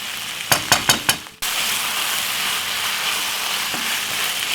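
Tuna spaghetti sauce with ketchup simmers in a pan, giving a steady, close hiss and sizzle that runs on after a few sharp clatters at the start.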